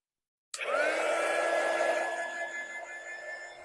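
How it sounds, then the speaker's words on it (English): A hair dryer switches on abruptly and runs in a steady, loud, close whoosh with a faint whine, blowing on white paint on a spring hanger craft. "Let's take the dryer and dry that real quick."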